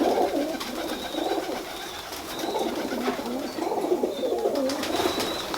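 Tippler pigeons coo in soft, repeated rolling phrases, close and clear over a steady outdoor background, with faint higher chirps now and then.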